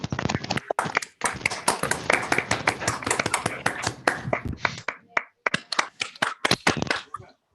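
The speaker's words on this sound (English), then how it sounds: "everyone unmutes and claps, so we can do that" Scattered clapping from participants in an online session, uneven bursts of individual claps picked up through separate microphones, fairly close and sparse toward the end.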